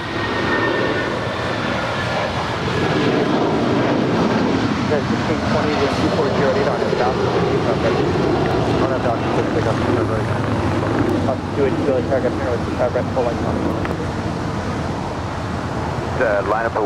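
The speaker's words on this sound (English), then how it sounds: "It's United Airlines Flight 1069 departing to Chicago" A United Airlines Boeing 757-300 jet rolls down the runway on departure at Los Angeles International Airport, a steady broadband engine roar holding loud and continuous throughout with wind-like rush layered in.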